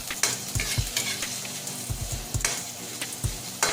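Sliced ginger sizzles in hot cooking oil while a utensil stirs it in the pan, a continuous crackling fry punctuated by several close scraping strokes with no talking.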